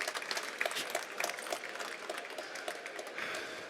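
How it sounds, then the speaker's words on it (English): Audience members clap after a talk about building the restaurant of the future, a moderate, fairly soft round of applause heard from a middle distance with no speech over it. "Round of applause."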